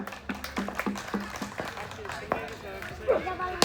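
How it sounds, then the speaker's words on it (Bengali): A crowd at a cricket match applauds a young cricket fan, with scattered claps and taps over a steady murmur and a commentator's voice talking throughout. "এই খুদে ক্রিকেট ভক্তের জন্য একটি করতালি হয়ে যাক"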